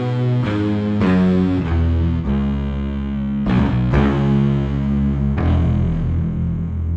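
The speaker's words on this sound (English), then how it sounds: "I'm guessing this was probably a mic on the amp. You're definitely getting a little more natural distortion." Electric bass played through a miked amplifier with natural distortion, a series of low sustained notes plucked one after another, loud and alone.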